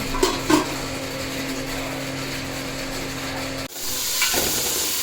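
Pot boiling on a kitchen stove, a steady bubbling hiss with a faint underlying hum and a few light clinks, briefly dropping out before resuming.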